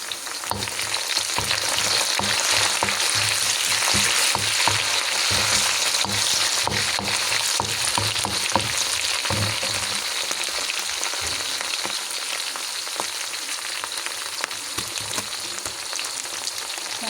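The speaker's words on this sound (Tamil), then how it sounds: "பச்சை மிளகாய் போடுவோம் கையோட கருவேப்பிலையும் போடலாம்" Green chillies and curry leaves sizzle in hot oil in a pan while egg kothu is cooked, a loud, steady crackling fry with occasional stirring scrapes throughout.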